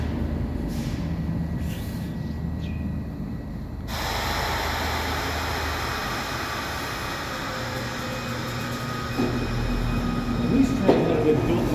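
A SEPTA Broad Street Line subway train at a station builds into a loud continuous rumble and rush of rolling cars, with a few faint metallic squeals near the end.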